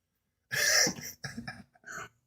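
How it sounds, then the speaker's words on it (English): Two or three sharp, close coughs in quick succession, followed by a short throat-clearing cough, with silence before and after. "I was just coughing a little bit"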